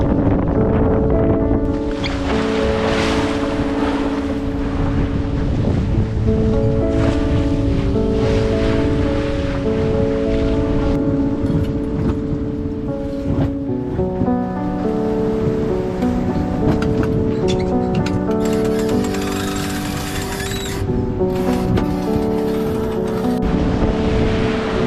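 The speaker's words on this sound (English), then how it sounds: "suddenly the wind comes, but of course in the middle of the night, and of course with a lot of rain" Strong wind, heavy rain and waves hit a sailing boat at sea at night on a passage from Bora Bora to Samoa. A loud, constant roar fills the clip, with tonal whistling from the rigging, and no one speaks.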